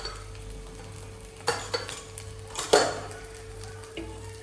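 A few metallic clinks and scrapes of a utensil against a small pressure cooker over a low, steady hum and faint frying hiss of cumin in oil.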